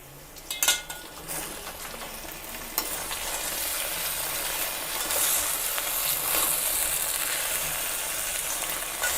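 Onion paste curry is stirred in a pan with a few sharp utensil clanks at the start, followed by a steady close sizzle and scraping that continues without talk.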